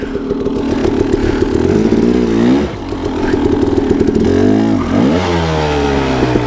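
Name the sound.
KTM 300 dirt bike engine lugging uphill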